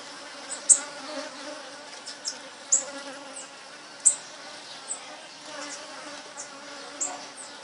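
Bees in a city setting buzz steadily at low level, with brief louder passes as individual insects fly close by every second or two.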